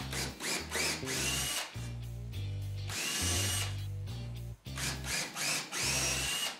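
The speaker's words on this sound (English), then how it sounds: "Now I'm gonna drill a hole" A power drill bores into a wooden bench leg. Its motor whines in repeated bursts, revving up and easing off several times, with short pauses between pulls, close and clear, and no talking.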